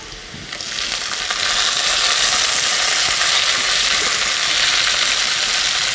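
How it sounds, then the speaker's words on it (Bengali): Onions with chopped tomato and crushed garlic fry in a pan, giving a loud, steady sizzle that swells in the first second and then holds evenly throughout, with no voices. "পেঁয়াজগুলোকে লাল করে ভেজে নেব"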